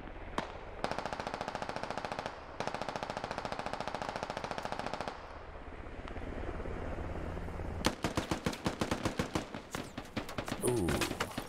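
Gunfire in the tactical shooter SquadOps, long rapid automatic bursts with short pauses, then a later run of heavier spaced shots, loud and close.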